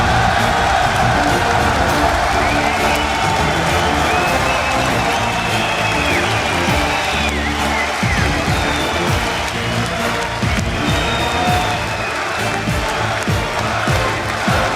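A large home crowd roaring and cheering at the Zenith arena in Paris during an esports match, dense and loud throughout, with whoops and applause mixed into a steady wall of noise.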